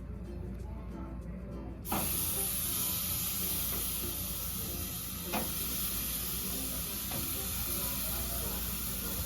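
Chicken pieces laid on a low-flame barbecue grill start sizzling abruptly after a quiet moment, then hiss steadily and fairly loud, with a few sharp crackles.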